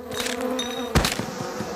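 Cartoon bees buzz in a steady, close drone, with a brief louder swell partway through and no talking over it.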